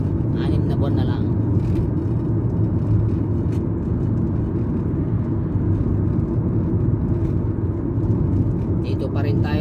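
A 2012 Toyota Alphard van drives along urban roads beside a river, its engine and road noise forming a steady, loud low rumble throughout, with a faint voice speaking at the start.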